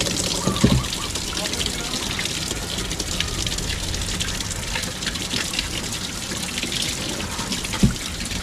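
Water gushing and pouring steadily from a tap into a container to soak food so it softens, a continuous close splashing rush with a brief louder knock near the end.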